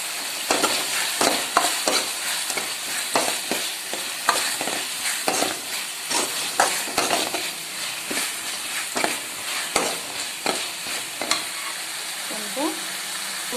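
Curry leaves and green chilli sauté in hot oil for a drumstick kara kuzhambu, a steady close sizzle punctuated by repeated sharp crackles and spatters throughout, with no talking.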